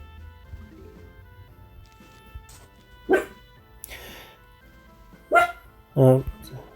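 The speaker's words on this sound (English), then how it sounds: "If you can hear that in the background, that's our dog barking." A pet dog barking in another room, a few sharp separate barks spaced apart, moderately loud against a quiet background.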